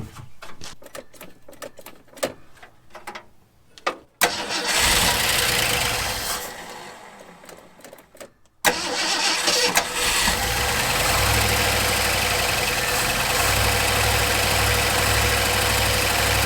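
A 1974 Ford F100, abandoned and being fixed, cranks with loud rapid clicks of the starter, catches briefly, then cranks again and fires into a steady, loud idle that runs on alone.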